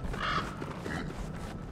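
Crows cawing from bird trees in Don't Starve, a faint caw or two over a low, quiet ambient bed.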